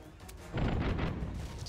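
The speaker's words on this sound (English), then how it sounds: "Get two shots on the port side" Ship's cannons fire from the port side in the pirate naval game Tortuga - A Pirate's Tale. A heavy booming discharge hits suddenly and then rolls into a sustained, rumbling roar that slowly fades.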